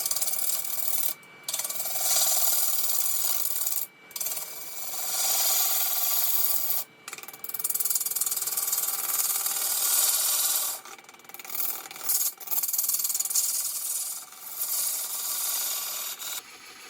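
A 1/2 inch bowl gouge scrapes and rasps against a warped, dried wooden burl spinning on a lathe, cutting a dovetail tenon in long continuous passes broken by a few brief pauses between cuts.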